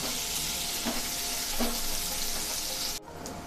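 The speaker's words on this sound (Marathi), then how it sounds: "हिरवी मिरची आणि कढीपत्ता। आता आपण हे छान 2 ते 3 मिनिटांसाठी परतून घेऊया।" Green chillies and curry leaves, added to onions for sevai upma, sauté in hot oil, a loud steady close-up sizzle with a couple of stirring scrapes before it suddenly drops away.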